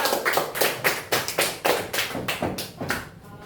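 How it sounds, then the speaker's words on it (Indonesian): Children clap their hands in a classroom, about a dozen brisk, fairly even claps in a steady rhythm, close and clear with no talking. "Tepuk tangan dulu, ya."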